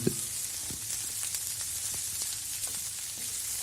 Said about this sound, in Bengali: একটু নাড়িয়ে চাড়িয়ে এর মধ্যে আমরা দিয়ে দেব আগে থেকে কেটে রাখা টমেটোগুলো।